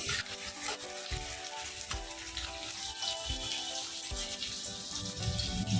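Onions for biryani sizzle steadily in hot oil as they fry toward brown, a continuous crackling fry with occasional stirring clatter, close and even throughout.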